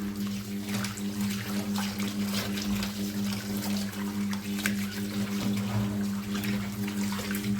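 Water swishes and trickles continuously as potato slices for wafers are scrubbed clean in a basin, with intermittent splashes and soft knocks over a constant low background hum.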